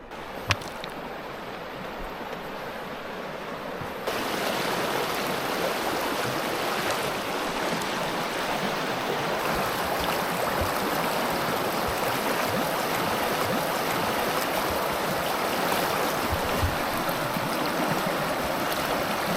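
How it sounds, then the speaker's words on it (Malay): Continuous rushing water of a flowing river stream in East Iceland, loud and close, steady throughout after a quieter opening few seconds. "Air sungai."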